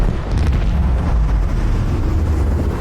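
Cannons fire at will from a warship in the video game Warhammer 40k: Rogue Trader, a loud continuous rumble of overlapping booms and blasts with a dense low-end roar.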